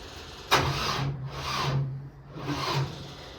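A dead car's engine is cranked during a jump start, giving rough grinding bursts in two or three efforts with short gaps between them, heard close by and without talk.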